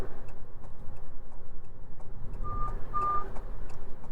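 Left turn signal ticking inside a Fiat 500e while driving, an even run of soft clicks under steady road and cabin hum, with a brief warning beep near the end.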